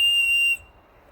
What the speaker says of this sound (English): I can blow my whistle and somebody can find me